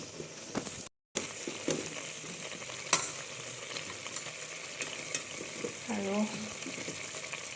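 Potatoes and meat sizzle and fry in a pan while being stirred, a close, steady crackle with scraping stirs, and a voice speaks briefly over the cooking.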